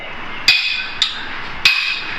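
A hammer strikes a part on a Toyota Avanza engine during timing chain repair, giving three sharp metallic blows with irregular spacing, loud and close.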